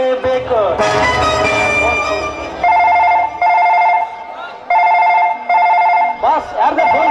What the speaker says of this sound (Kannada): ಬಾಸ್ ಯಾರ್ದ ಫೋನ್ ಬರ್ತಾ ಇದೆ?